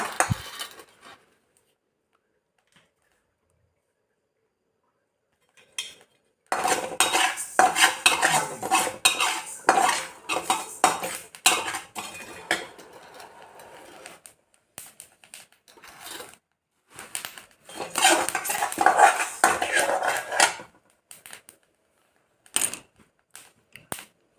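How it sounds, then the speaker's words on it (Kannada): Sesame seeds being lightly roasted in a pan for a homemade hair oil, with a spoon scraping and clinking against the metal in busy bursts separated by quiet stretches. "ಇಲ್ಲಿ ಎಳ್ಳು ಸ್ವಲ್ಪ ಲೈಟಾಗಿ ಹುರಿಯೋಣ, ಜಾಸ್ತಿ ಬೇಡ."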